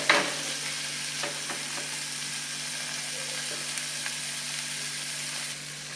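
Chopped tomato frying and being stirred in a pan for paneer pulao, a continuous gentle sizzle with occasional utensil taps, close and steady throughout.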